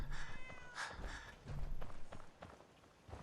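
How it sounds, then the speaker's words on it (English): A house cat in Fallout 4 meows a few short times in close succession, mixed with light footsteps and scuffling nearby. "I hear you, kitty."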